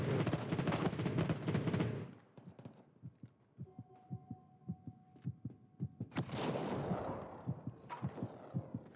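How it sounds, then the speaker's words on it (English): Hipfire from a light machine gun in the shooter Battle Prime: a dense roar of fire, then a steady string of thumping rounds with a faint hum beneath, and another loud burst at the end. "Holy terrible hipfire LMG accuracy"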